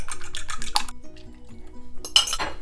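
A utensil clinks and scrapes against a bowl in quick, uneven strokes, mixing beaten eggs into creamed butter and sugar for chocolate chip cookie dough, close and clear with no talking.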